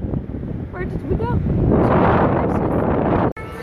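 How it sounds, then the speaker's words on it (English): Wind gusting across a California beach, a loud broadband roar buffeting the microphone that swells and holds steady, with voices talking briefly early on. "We're on the beach in California. It's a little windy."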